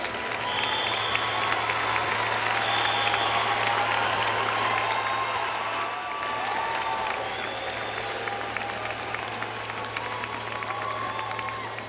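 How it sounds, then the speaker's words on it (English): Sustained applause from a large commencement audience honoring Engineering and IT graduates at Cincinnati State, a steady dense wash of clapping with faint crowd murmur, filling the whole stretch at an even level. "Let's recognize the graduates of the Engineering and IT Division with another round of applause."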